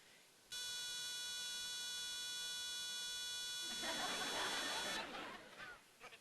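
A smoke-detector alarm sounds in a forest, a steady high electronic tone that holds for several seconds before giving way to a rougher broadband noise, heard faintly at a distance.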